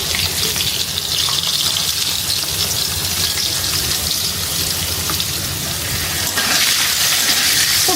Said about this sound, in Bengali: দেখো আলুগুলো আমি তেলে দিয়ে দিয়েছি